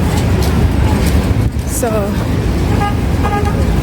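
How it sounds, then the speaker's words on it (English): Car horns toot in busy street traffic on Jamaica Avenue in New York, a few short honks rising over steady roadway rumble, with a person speaking nearby. "Everybody just honk on their horns for no reason."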